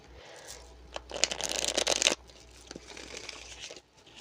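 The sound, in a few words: shuffling tarot cards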